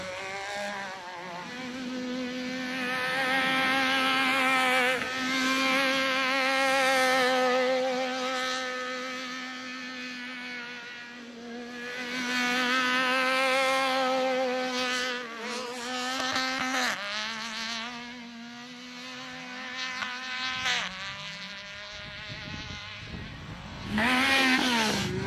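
A Yamaha YXZ 1000R side-by-side runs under way, its engine droning with rising and falling pitch as it shifts up through gears, loud and close, with no talk heard.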